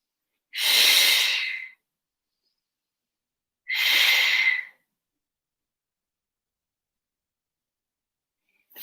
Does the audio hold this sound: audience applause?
no